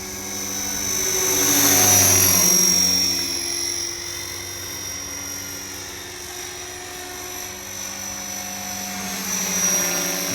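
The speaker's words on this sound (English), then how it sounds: "how that spinning rotor blade becomes, you know, the wing to give the heli lift" An Align T-Rex 470LP RC model helicopter flies nearby, its rotor giving a steady high whine with layered harmonic buzz that swells loudest early on, then holds a constant droning pitch.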